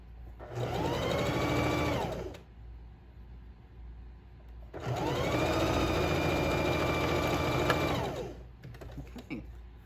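A sewing machine stitches fabric for a newborn mitten in two sustained whirring runs of about two and four seconds, with a short pause between and a few faint clicks at the end.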